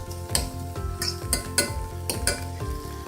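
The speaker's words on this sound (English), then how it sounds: "Stir it for a moment just to make sure that the ice will melt." Mashed potato and baja corn mix being stirred in a pan over low heat, a vegan dish: repeated scraping and clinking strokes of a utensil against the pan in a steady rhythm, close and clear, with a faint sizzle underneath and no talking.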